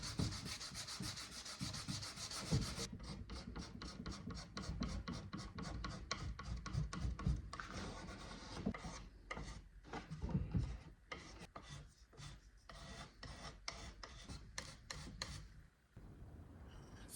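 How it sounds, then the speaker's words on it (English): Sandpaper rubbing back and forth over wood filler in the seams of a vintage painted writing desk, a steady close scrape that breaks into quick rhythmic strokes partway through. "After planing the wood to the right size, I sand and fill the seams with wood filler."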